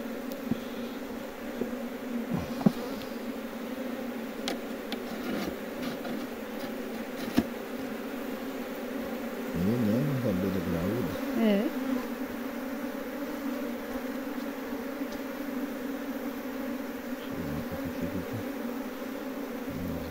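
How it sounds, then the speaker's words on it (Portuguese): Large honeybees buzz steadily at an apiary hive, a continuous close drone with a few louder swells as individual bees pass near, and no talking. "abelhas bem grandes"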